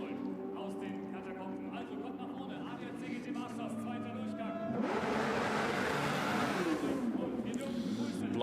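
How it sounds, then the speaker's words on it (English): Porsche Carrera Cup Deutschland race cars at the Red Bull Ring surge into a loud, rising roar of engines from below around the race start, swelling over crowd and announcer noise, with a steady rumble before the burst. "Blast of noise down below, the Porsche Carrera Cup Deutschland about to kick off"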